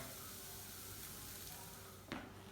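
Egg whites frying in a pan: a soft, steady sizzle at low level throughout, with a brief sharp scrape or clink near the end, no talk.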